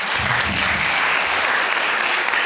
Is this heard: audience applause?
yes